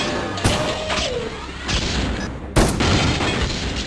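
Shotgun blasts in a first-person shooter, several sharp booming shots spaced apart, including a charged double shot, loud and close with reverberant tails, under a faint game background.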